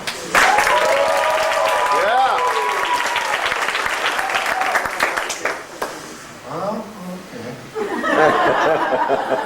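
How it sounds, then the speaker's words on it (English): Crowd at a contestant showdown bursts into loud applause, clapping, whoops and hollers, with laughter and shouted voices mixed in, surging, dipping briefly, then swelling again near the end. "by your clap, by your applause, by your hooting, by your hollering, is it contestant number 1?"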